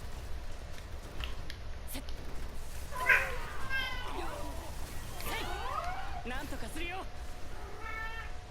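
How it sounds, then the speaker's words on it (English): Domestic cats meow repeatedly at moderate distance in a room, several drawn-out calls rising and falling over a steady background hum. "Sorry if you can hear my cats."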